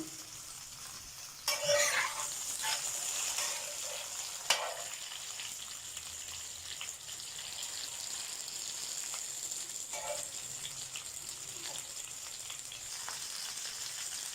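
Chicken leg pieces fry on a tawa over a lit stove, Lahori restaurant-style barbecue, giving a steady close sizzle throughout with a few brief stirring scrapes and clatters.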